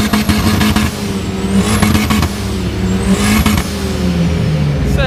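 A Need for Speed race car's engine revving loudly and continuously in the video game, with rising and falling pitch sweeps as it accelerates, close and dominant.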